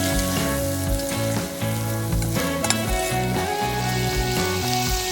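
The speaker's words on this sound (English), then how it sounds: "Stir garlic into the pot." Steady frying sizzle of garlic being stirred in a pot, continuous and close, over a faint musical backing.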